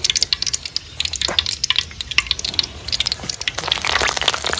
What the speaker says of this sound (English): so now we start to fry